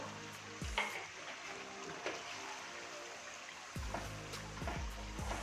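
Chicken simmers and sizzles in a pot of tomato and onion masala with a little added water, a steady quiet bubbling hiss broken by a few louder stirring scrapes and clinks.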